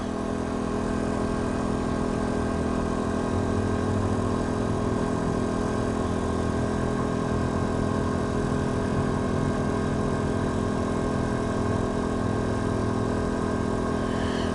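A Paxcess P2000i inverter generator runs steadily with eco throttle off after warming up, a constant close engine drone with an even hum throughout and no talking.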